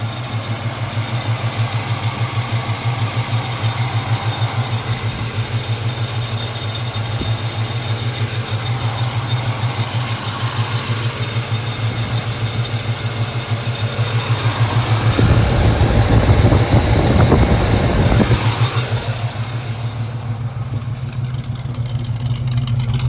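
A 1968 Pontiac Firebird engine idles with a deep, steady low rumble, swelling briefly louder near the end as it is revved, then settling back; no talking.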